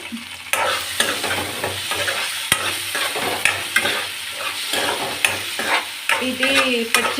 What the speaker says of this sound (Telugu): ఇది పచ్చివాసన పోయిన వరకు వేపాలి